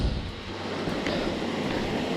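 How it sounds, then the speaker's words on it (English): A small waterfall spills at the end of Kinnie Brook in Fundy National Park, a steady broadband rush of falling water, fairly soft and constant throughout with no voices. "I legit found a waterfall at the end."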